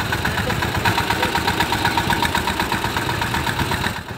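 A tractor engine idles steadily and close by, a continuous low rumble with a regular throbbing pulse that holds for about four seconds before easing slightly at the end.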